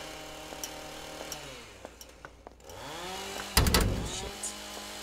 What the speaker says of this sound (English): when the chainsaw starts